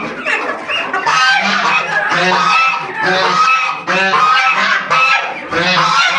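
Loud, dense honking from a flock of geese, mixed with clucking chickens, continuous and overlapping close at hand, on a rooftop poultry farm atop a seven-storey building.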